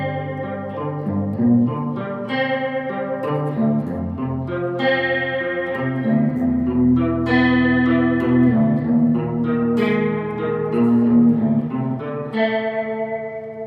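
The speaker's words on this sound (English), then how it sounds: "I have a Electro-Harmonix Neoclone with the rate turned all the way to the max and a little bit of delay on it." An electric guitar in drop D tuning plays a riff heavily swirled by an Electro-Harmonix Neoclone chorus at maximum rate plus a touch of delay, a dense, warbling, sustained chordal sound with no talking.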